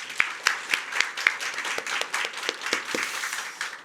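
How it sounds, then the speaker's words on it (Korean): A church congregation applauds during a Sunday worship service, a steady patter of many hands clapping at moderate distance with no talking. "감사와 영광의 박수를 올려드리겠습니다"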